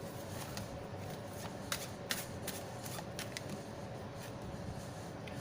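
A tarot card deck being shuffled, soft riffling and a few sharper card snaps at low level, with no talk.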